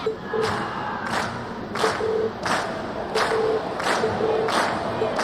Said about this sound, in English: you've been a wonderful crowd. And we've heard your cheers loud and clear.